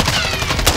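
Rapid, loud gunfire from a first-person shooter, a dense burst of shots rattling close by for under a second with no talk over it.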